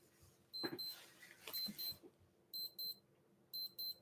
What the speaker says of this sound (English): Something is beeping, I don't know what, where is it even?